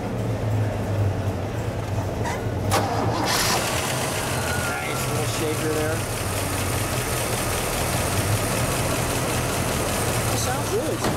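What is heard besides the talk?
1974 Pontiac GTO engine starting and idling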